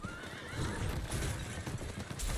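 A horse whinnies and its hooves clip-clop in the Diablo IV video game, a bright neigh rising early over a steady rhythm of hoofbeats and ambient game noise, with no speech.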